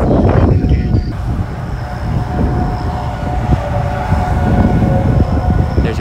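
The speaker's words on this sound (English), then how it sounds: "There's your sirens." Tornado warning sirens wail during a severe storm in Illinois, a steady droning tone heard over loud, rumbling wind and storm noise that covers the whole stretch, with no talking.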